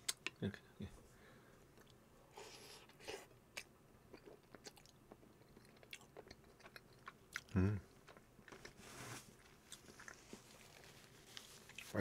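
Chewing of rosé soft tofu cheese pizza with soft bread, a home-made Korean meal, heard as close, quiet bites and mouth sounds with a few sharper clicks and soft speech in between.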